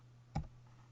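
A single sharp key click from a computer keyboard during text entry, close and isolated against a faint steady hum.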